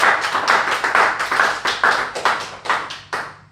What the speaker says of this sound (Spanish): Bríndele un fuerte aplauso al Señor entonces.